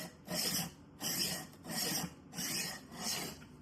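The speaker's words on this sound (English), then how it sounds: "You're just kind of running it back and forth just like that" A XUDAKAIXIN rolling knife sharpener is rolled back and forth along a kitchen knife blade, giving five even rasping strokes in a steady rhythm, close and clear with no talking.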